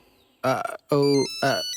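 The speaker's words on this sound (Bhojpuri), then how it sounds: "केकर फोन है जी?" A phone ringtone sounds in three short melodic bursts with brief pauses between them, loud and close.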